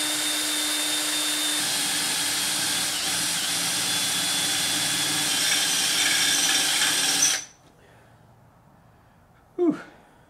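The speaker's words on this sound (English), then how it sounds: "Maybe I should drill a pilot hole first." A power drill bores a pilot hole into the hood of a 1990 Mazda Miata, whining loud and steady for about seven seconds before cutting off abruptly, followed by a brief faint clunk.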